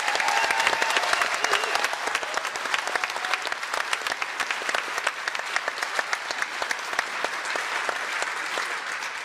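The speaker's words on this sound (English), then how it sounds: "Give Saul a huge round of applause" A conference audience in Greater Bendigo gives sustained, dense applause after a talk on electrifying everything: many hands clapping loudly and evenly for about nine seconds, with no voices over it.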